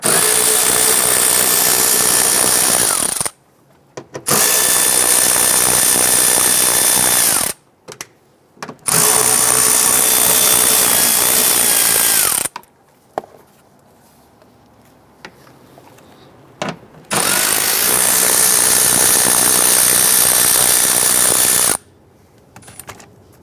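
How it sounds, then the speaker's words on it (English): A power drill removes 7mm screws from the door speaker of a 2011-2019 Ford Explorer, whirring loudly in four long bursts separated by quiet pauses and short clicks. "There's a series of 7mm screws around the perimeter. Loosen and remove those."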